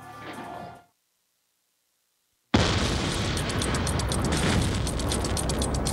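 A loud, sustained blast from a TV drama erupts after a brief silence, a broad roaring rush that continues for several seconds with crackling debris.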